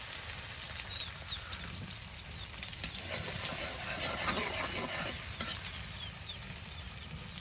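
Dried rita fish frying in oil for a shutki curry, a steady hissing sizzle with stirring scrapes that swells louder midway before settling back, heard close with no talk.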